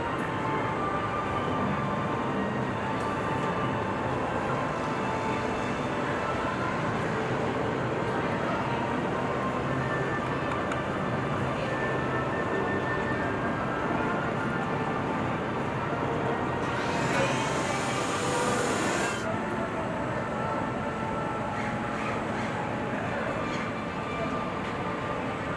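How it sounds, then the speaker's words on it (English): Continuous loud mechanical rumble of the Ice Breaker roller coaster train at SeaWorld Orlando rolling back and forth during launch testing, with a brief hissing burst partway through, no clear speech. "So we're moving the train back and forth, back and forth."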